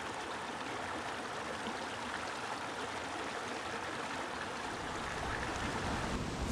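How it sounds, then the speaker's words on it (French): A small stream in a steep, deep-sided valley rushes and burbles steadily, a close, even wash of flowing water with no voices. "le ruisseau a pas l'air énorme"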